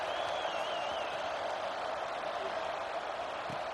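Steady, dense roar of a stadium crowd in the College Football 26 video game, a continuous wash of distant cheering and murmur with no single voice standing out.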